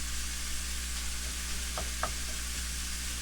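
Beef browns in a soup pot with a steady close sizzle and frying hiss, broken near the middle by two short scraping stirs.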